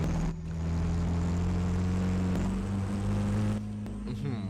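A pickup truck engine revs in a Roblox driving game, producing a loud, steady, droning hum that holds at high revs with a brief dip near the start and another toward the end.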